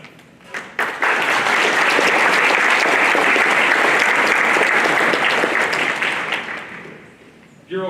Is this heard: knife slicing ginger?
no